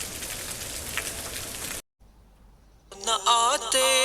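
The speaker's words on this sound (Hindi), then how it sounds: "बारिश हो रही है माशाल्लाह मदीना शरीफ में ना" Daytime rain at Masjid Nabawi in Madinah hisses steadily for a couple of seconds, then cuts off abruptly, and a melodic singing voice follows.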